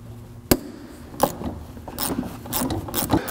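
Fasteners come loose on an old Nissan part: a few sharp metallic clicks and short ratcheting rasps, spaced unevenly against quiet background.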